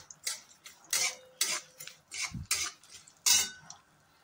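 A spoon scrapes and clinks against a pan while stirring cashews, almonds and pistachios roasting in ghee, producing a series of close, irregular metallic scrapes and taps with little sizzle.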